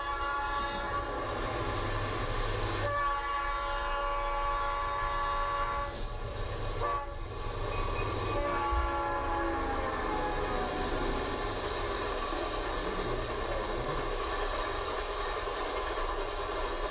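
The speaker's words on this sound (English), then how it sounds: "This is the train going back westbound coming out of Hinton." A train heads westbound out of Hinton, rumbling steadily and loudly for the whole stretch, with horn blasts and the clatter of passing rail cars riding over the rolling noise.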